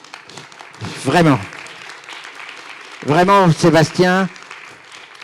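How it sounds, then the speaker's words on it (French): An audience at the closing of a morning session applauds with a soft, steady patter of clapping in the background while someone speaks French over it. "je vous demande de l'applaudir d'une manière fantastique"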